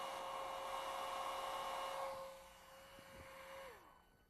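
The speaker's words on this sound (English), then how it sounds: "when I blow air over it, I can actually make it cool a little faster than it will otherwise" Steady rush of air blown across a heated bimetal strip in a physics lecture demonstration, a broad hiss with a faint tonal whine that holds for about two seconds, then drops and cuts off near the end.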